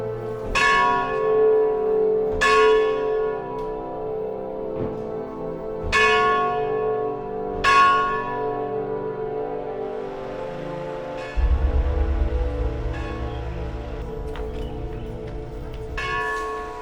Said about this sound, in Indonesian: Peninggalan Wilken berupa lonceng yang ada di gereja yang dibuat tahun 1878 itu dipesan oleh Wilken.